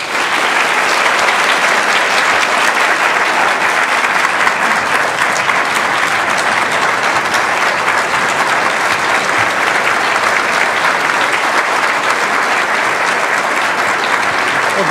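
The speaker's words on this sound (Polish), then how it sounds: "Well, thank you for the applause" An audience greets Lech Wałęsa with loud, sustained applause, dense clapping that stays strong and even from start to finish.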